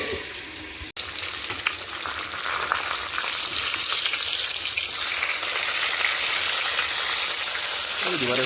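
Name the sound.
frying in oil with green chili, salt and turmeric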